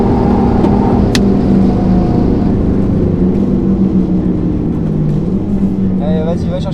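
Renault Mégane 4 RS Trophy-R accelerating hard on a race circuit, a loud, steady engine drone filling the whole stretch with rising pitch toward the end, heard from inside the car.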